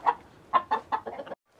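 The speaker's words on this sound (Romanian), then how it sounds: "Am și un cocoș de australop foarte fain" An Australorp rooster in a rural yard clucks in a quick run of short, throaty notes, fairly close but soft, ending with a brief pause and one faint final cluck.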